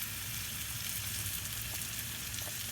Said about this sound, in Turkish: şurada pırasayı ve soğanı sıvı yağ ve tereyağlı ocağa koydum